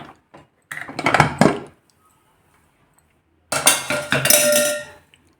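Metal pots and vessels clatter and clink in two bursts as cooked peanuts are transferred into them in a home kitchen, loud and close with a quiet pause between.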